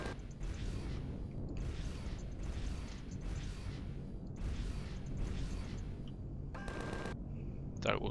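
Cannon fire in the space game Empyrion Galactic Survival during an assault on a resupply station, a rapid series of booming shots in bursts with a mechanical whine near the end, no talk.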